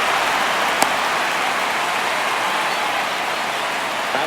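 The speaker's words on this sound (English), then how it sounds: "you can feel this crowd waking up a bit here" A baseball crowd at an Angels–Rangers game cheers after a base hit, a broad, steady roar of many distant voices, with one sharp knock early on.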